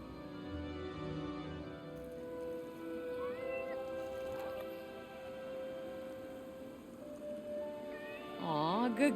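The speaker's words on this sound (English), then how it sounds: "What are you gonna do with the cat? The cat becomes a familiar." A cat in the video game Forspoken gives a few soft, rising meows over a quiet game background, with a louder, warbling cry near the end.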